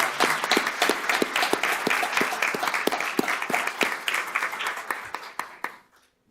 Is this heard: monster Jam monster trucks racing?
no